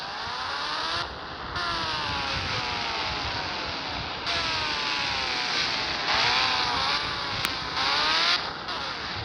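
A game motorbike from Indian Bike Driving 3D revs and drives in a loud synthetic engine tone with rising and falling pitch sweeps as it shifts through gears, running continuously with brief drops between pulls.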